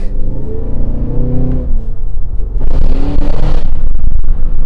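A Cadillac Escalade V-Blackwing three-row SUV engine revving loudly close by, a rising rumbling growl that surges again after a brief dip, with no voices.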